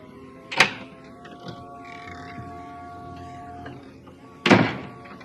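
Two loud, separate thuds land on a door several seconds apart, with quiet room tone in between and no voices.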